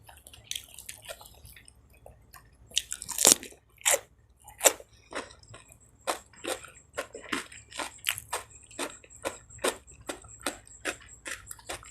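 Crunchy smashed chicken nuggets and raw jengkol being eaten up close: a steady run of sharp, loud bites and crunches with wet chewing between them, growing more rhythmic toward the end, no talking.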